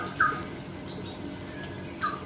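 A pigeon being treated for a fungal infection of the beak, with watery eyes and a lump on the beak, gives two short, clear chirps, one near the start and one near the end, against a quiet indoor background.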